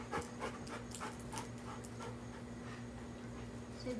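A dog pants steadily and fairly close by, quick rhythmic breaths running throughout with a low steady hum underneath and no talk.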